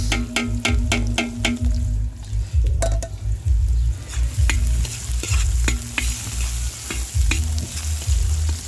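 Onion and garlic sauté in a hot pan for a village fiesta dish, a steady loud sizzle with repeated clinks and scrapes of a utensil against the pan throughout.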